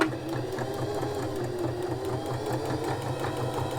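A sewing machine runs a straight stitch along a fabric fold, whirring steadily with a fast, even needle rhythm, close and uninterrupted throughout.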